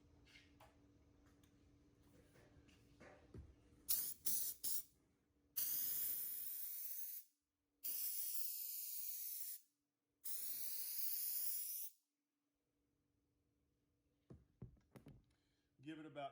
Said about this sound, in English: So let's spray this one.